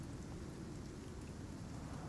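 Rainstorm in the survival video game Icarus, a dense steady hiss of rain that stays even and fairly faint throughout with no talk.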